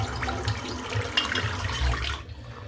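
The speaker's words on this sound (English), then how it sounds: "let me just soak this brush while I'm talking" A tap runs steadily into a sink while a shaving brush soaks, a continuous close splashing flow that cuts off near the end, with no talking.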